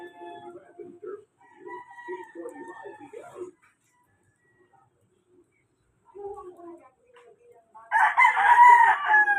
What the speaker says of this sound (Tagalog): doon mga manok